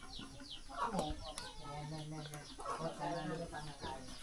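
Chickens cluck and call close by in a rural Lao home setting, with short bursts of clucking in two clear clusters while a person talks softly under them.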